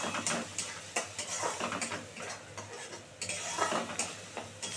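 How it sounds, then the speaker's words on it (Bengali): Spice paste for a fish curry being stirred and fried in a pan, with steady scraping and sizzling, clinks of a utensil against the metal, continuous and close. "এবারে এখানে মশলাটা খুব ভালো করে কষাবো"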